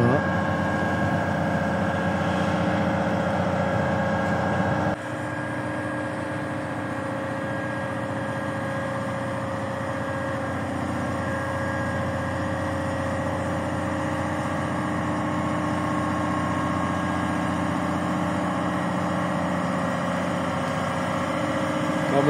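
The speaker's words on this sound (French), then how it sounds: "la péniche redémarre pour passer son écluse" A barge's heavy diesel engine runs steadily as the boat restarts to pass through a lock on the Seine, a loud low drone with a sudden drop in level partway through, then continuing evenly.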